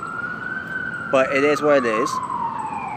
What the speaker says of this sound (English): I apologize for the sirens that's coming out of nowhere right now